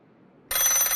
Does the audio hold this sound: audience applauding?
no